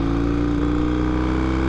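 A 1965 Triton motorcycle engine idles steadily up close, a continuous loud low throb with a smooth, even pulse and no gaps across the short stretch.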